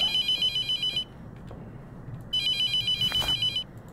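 An old-style electronic telephone trills in The Mortuary Assistant horror video game, two ringing bursts separated by a pause, over a low droning ambience with a faint thud between rings.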